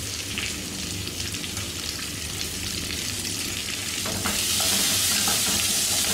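Chopped onion sautéing over a high flame, a steady, loud, close sizzle with scraping stir noises that grows a little brighter and hissier toward the end, no voices.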